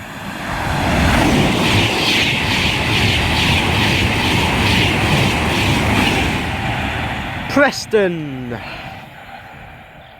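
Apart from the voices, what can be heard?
Class 390 Pendolino train passing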